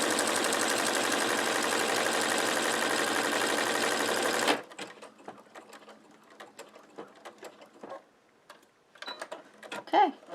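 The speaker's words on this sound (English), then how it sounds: "What I like about this machine is it makes every buttonhole exactly the" Sewing machine stitching a buttonhole on a chenille shamrock pillow, a dense fast mechanical whir for about four seconds, then stopping, followed by sparse clicks and handling noises.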